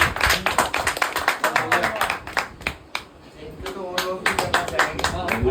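Scattered, close hand clapping from a small audience at an Urdu-Hindi poetry mushaira, uneven bursts of claps with a brief lull near the middle before picking up again.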